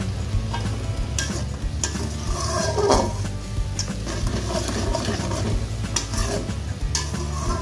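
Spices with salt, turmeric, chili and cumin powder sizzle in a pan as half a tomato goes in, a steady close frying hiss with stirring scrapes and light clinks of a utensil against the pan.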